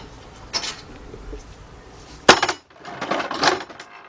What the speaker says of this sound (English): So let me get me a ratchet here, an extension.